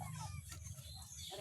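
A chicken clucks and murmurs close by in a brief, faint moment outdoors.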